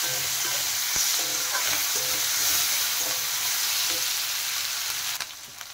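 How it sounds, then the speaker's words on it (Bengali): Chopped onions sizzle steadily in hot oil with fried cumin in a pan, stirred with scattered scrapes and taps of a utensil; the close, even frying noise fades slightly near the end. "তার মধ্যে দিয়ে দিচ্ছি কুচনো পেঁয়াজ।"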